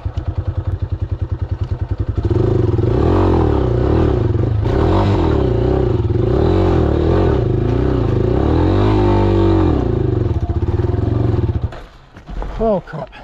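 Motorcycle engine labouring loud and close while climbing the rough uphill trail of Hancock Pass, Colorado, revving hard with clattering and scraping for several seconds, then dropping off to quieter handling sounds near the end.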